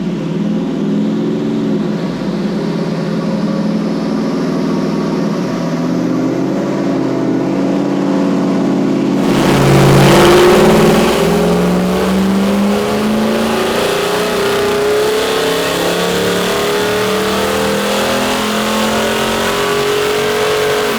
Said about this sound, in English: we're just going to do a couple of settling runs just on the dyno to start with